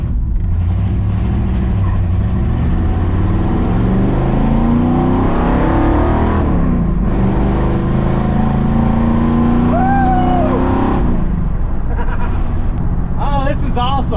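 A 1968 Ford F-100 pickup truck with its exhaust cutouts open rumbles loudly and close by, with its revs rising and falling, while people talk over the engine throughout.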